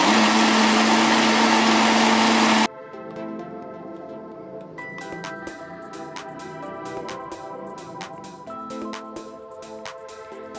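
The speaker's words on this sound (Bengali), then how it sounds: "ব্লেন্ডারের জগে কিন্তু ব্লেন্ডার করে নিচ্ছি টমেটো" An electric blender whirs loudly in its jug, blending raw and ripe tomatoes together. The harsh motor roar lasts a couple of seconds, then cuts off abruptly, leaving quieter background sounds.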